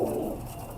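Pigeons coo softly in a loft, a low steady murmur close by with no clear separate calls.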